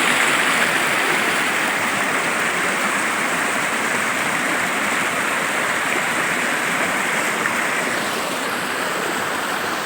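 A flowing stream near the Bileshwar Mahadev temple gives off a loud, steady rush of water that fills the whole stretch without pause, close by and with no voices.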